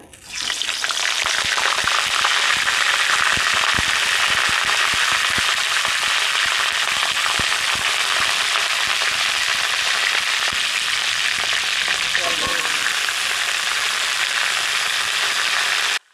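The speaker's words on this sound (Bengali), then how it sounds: "এবার আমি কপিটা ভেজে নেব" Cauliflower pieces frying in hot oil in a pan, a loud, constant sizzle and crackle with scattered sharp pops running throughout.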